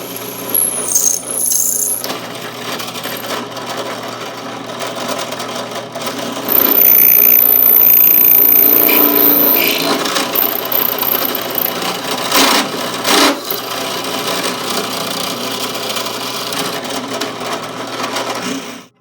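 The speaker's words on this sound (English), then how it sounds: "I've got the magazine mounted in a drill press vise, sitting here on my drill press with a 1/8 inch bit" A drill press with a 1/8 inch bit grinds steadily into a steel M9 pistol magazine for a long stretch, a harsh whining rasp that swells louder midway, then continues at a constant level.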